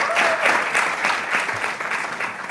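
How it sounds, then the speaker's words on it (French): Sustained applause from an audience at a ceremony honouring a filmmaker, dense and steady throughout with no voices over it. "Je demande beaucoup d'applaudissements."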